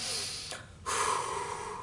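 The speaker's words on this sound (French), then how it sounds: "Tu vois, ça c'est une respiration passive." A man demonstrates passive breathing during a bodyweight strength training discussion: two close, audible breaths, a shorter one followed by a longer, airy exhale, with no talking over them.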